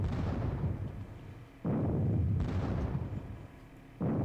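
Heavy artillery booms in a Battle of Friedland war game, three loud deep blasts roughly every second and a half, each one rolling out into a rumbling decay.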